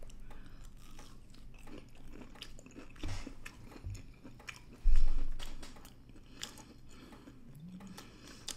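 Close, crisp bites and chewing of frozen loaded potato sticks, with crunchy snaps and wet mastication repeating steadily and one louder crunch partway through.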